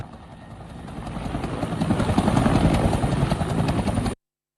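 Sri Lanka Air Force Bell 212 helicopter flying nearby, a steady loud rotor chop and turbine roar that builds slightly over about four seconds, then cuts off abruptly.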